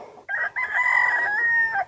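A fighting rooster crows loudly and nearby, a long drawn-out call after a short opening note, with faint farmyard noise around it.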